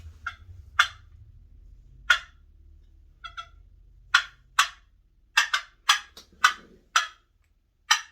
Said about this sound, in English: That's like a cluck,